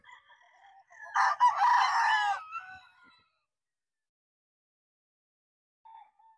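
A pure Boston Roundhead gamefowl rooster gives one clear crow at moderate distance, followed by silence and a faint short call near the end.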